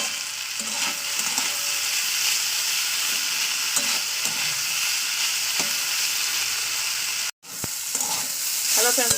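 Potatoes and beans fry in a pan with a continuous close sizzle, broken by intermittent scraping and stirring strokes and one abrupt brief gap near the end.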